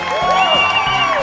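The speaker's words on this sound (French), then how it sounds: "encore ces putains d'applaudissements que je fous au montage" A short, full burst of canned applause and cheering, inserted in editing, with whoops riding over dense clapping for just over a second.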